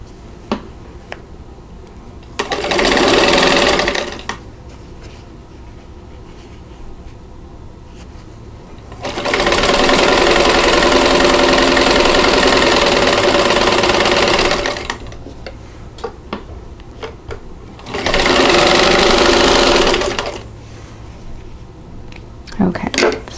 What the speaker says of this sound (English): turn it around and sew the other side